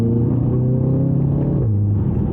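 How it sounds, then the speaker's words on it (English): An Audi TT Quattro gives a steady low engine drone that drops in pitch partway through, as a downshift would, with turbo blow-off sounds expected. No voices are heard. "And those blow off sounds make me smile so much."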